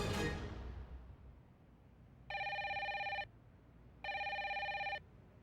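A telephone rings unanswered in an office, two electronic ring bursts of about a second each separated by a short pause, fairly clear over a quiet background.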